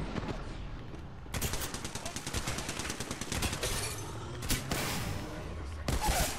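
Shotgun fire in the video game Apex Legends: loud, rapid blasts and bursts layered over a dense game soundscape, with heavier booms near the end.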